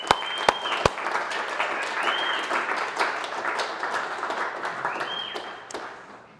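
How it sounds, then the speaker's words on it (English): Team members applauding award winners at a company meeting, a steady wash of clapping that fades gradually toward the end, with a few sharp knocks at the start and brief whoops. "Give them a round of applause real quick."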